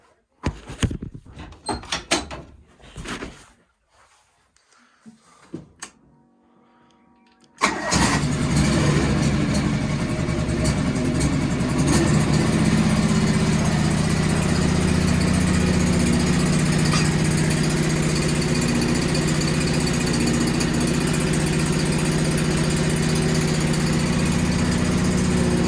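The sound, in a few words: John Deere 425 lawn tractor engine starting and idling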